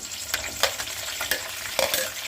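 Steady crackling sizzle of chilies frying in hot oil, with bright spattering pops scattered throughout and no voices.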